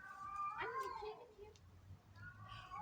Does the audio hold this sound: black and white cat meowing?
yes